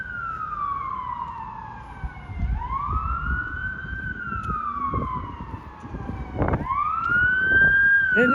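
A police car siren wails and sweeps in pitch as it speeds past along Wisconsin Avenue in Georgetown, loud and close, with street traffic rumbling beneath it.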